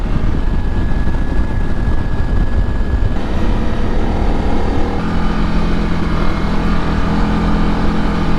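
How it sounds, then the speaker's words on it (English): A motorcycle engine held at high revs in third gear while riding in Baja California, heard as a loud, steady droning hum mixed with wind rush and a slight shift in pitch partway through. "I'm in third gear at high revs and it's pretty perfect"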